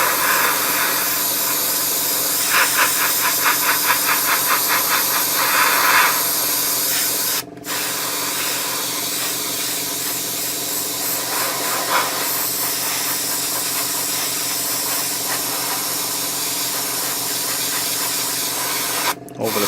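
An airbrush sprays a light mist coat of paint onto a Takom 1/35 scale Chieftain Mk10 model tank, giving a steady close hiss that runs almost continuously, broken by two brief pauses.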